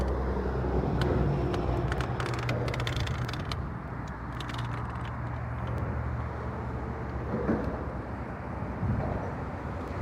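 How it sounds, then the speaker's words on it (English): Steady, noisy road traffic rumbles from a distance beside Lake Guntersville, a continuous low drone with passing vehicle swells and no talking. "There's some noisy traffic."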